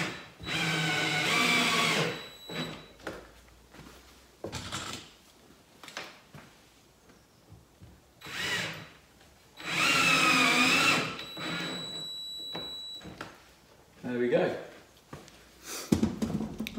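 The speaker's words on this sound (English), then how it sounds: "I'm just going to screw them straight in." A power drill drives chrome screws into chrome hinges on an interior door, giving two sustained whirring runs of a few seconds each, separated by quieter handling clatter.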